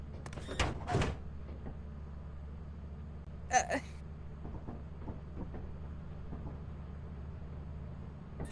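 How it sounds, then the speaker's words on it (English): Door in the Lethal Company video game opening with a few mechanical clunks and a sliding rumble, short bursts over a low steady hum, with quiet voices in between. "I'll open the door"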